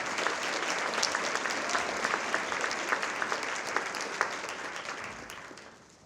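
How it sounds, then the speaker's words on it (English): Steady audience applause fills a packed room at the Mary's Place dream BIG charity luncheon, dense clapping holding for about six seconds before tapering off at the end. "Can we give a hand clap for them as well?"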